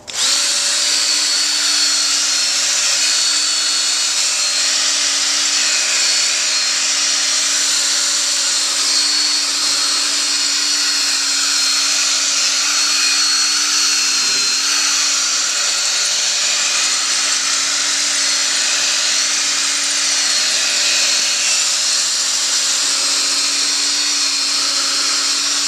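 A power polisher whines steadily and loudly at close range as it buffs dried compound off a headlight lens, holding one even high-pitched drone without pause.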